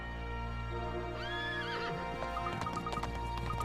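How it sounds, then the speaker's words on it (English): A horse in the Professor Layton vs Phoenix Wright video game lets out a loud, shrill whinny that rises and wavers, with hoof clip-clops and game music underneath. "Hey, easy, boy. This horse is certainly spirited."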